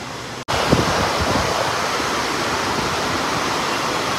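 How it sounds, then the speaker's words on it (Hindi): Heavy stormy rain pours down in a loud, steady broadband roar that cuts in abruptly after a brief gap and then holds constant and close, with no voices over it. "तूफानी बारिश"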